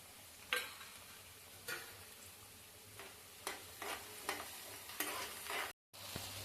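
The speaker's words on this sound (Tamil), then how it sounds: "இந்த பூண்டை வந்து எண்ணெயில் போட்டு ஃப்ரை பண்ணிக்குவோம்" Garlic crackles and sizzles steadily in oil with a few sharper pops and stirring clinks, a close kitchen frying sound with no talking.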